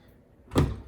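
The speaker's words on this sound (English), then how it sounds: "just close the door" A Frigidaire dishwasher door swings shut with a single solid thump and a short rattle, close and fairly loud, following a quiet moment.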